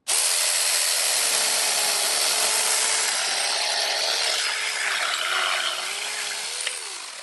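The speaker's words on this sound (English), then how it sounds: "So that's the ORBLON 20-volt brushless cordless chainsaw." An ORBLON 6-inch 20-volt brushless cordless chainsaw running on a DeWalt battery cuts smoothly through wood, a loud, steady high whine and rasp lasting several seconds before easing slightly near the end.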